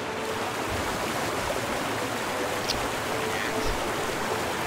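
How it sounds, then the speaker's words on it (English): Rushing waterfall water in the Guild Wars 2 video game, a steady broadband roar with low surges, continuous throughout without any talk. "Opens up into a nice little waterfall"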